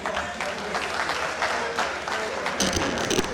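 A seated audience at a pavement asset management training session breaks into applause, dense continuous clapping with a brief burst of louder, closer claps near the end.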